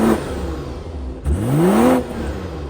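A 2024 BMW X5 xDrive50e plug-in hybrid SUV's exhaust revs up loudly twice, the engine note rising and falling with a deep burbling growl, close and unaccompanied by talk.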